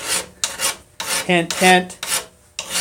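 A hand file rasps across a workpiece clamped in a vise, in repeated close, loud strokes with brief pauses between them, while a voice speaks over part of the filing.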